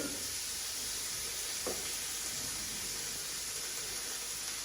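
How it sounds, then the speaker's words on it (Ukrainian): Oiled pork tenderloin sizzling on a grill, a continuous close hiss with a brief sharper crackle partway through, no talking. "І викладаю на гріль."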